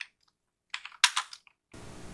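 An address is typed on a computer keyboard: a few quick, close keystroke clicks in a short burst. A brief rush of noise follows.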